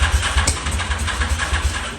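Honda motorcycle engine after five years in storage, running with a rough, pulsing low-pitched putter at close range, steady and loud throughout with no talk.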